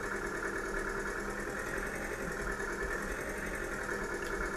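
A tractor engine from the farming game Farming Simulator 2013 drones at a steady idle, a continuous buzzing hum with a faint mechanical rattle, even in level throughout.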